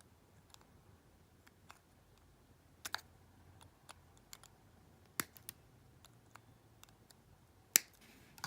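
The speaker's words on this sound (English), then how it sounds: "take our wire cutters and just snip this" Wire cutters snip through craft wire in a quiet room, leaving a few sharp, isolated clicks scattered over several seconds with near silence between them.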